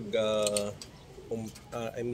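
Pet lovebirds calling in a home aviary, short bright chirping bursts in two or three groups separated by brief pauses, close by and moderately loud, with faint background noise between calls.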